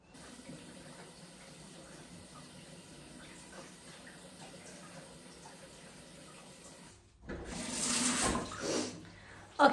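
Tap water runs and splashes at a sink while a face mask is being rinsed off, a steady low flow that swells louder near the end, with no talk.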